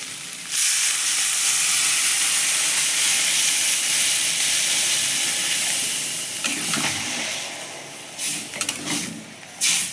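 Water poured into a hot pan of fried fish head gives a loud, sudden hissing rush of steam that holds steady for several seconds, then fades into bubbling sizzle with a few clatters of the pan.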